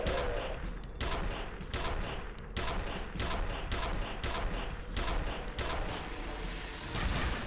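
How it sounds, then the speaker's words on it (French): Suppressing gunfire in the shooter game F.E.A.R. Perseus Mandate: loud, rapid bursts of automatic shots crackle in repeated volleys with brief gaps, dense and close throughout. "Tir de suppression."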